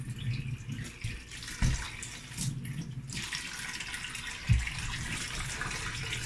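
Cut yam pieces are washed in water at a kitchen sink, with tap water running steadily and occasional louder splashes and knocks as the pieces are handled.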